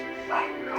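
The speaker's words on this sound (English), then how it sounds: "Sorry about the dogs kind of distracted the hell out of me." Dogs bark and yip in the background, one short muffled burst at moderate distance.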